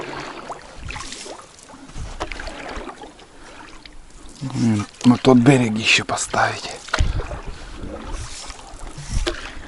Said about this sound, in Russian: Спускается лодка.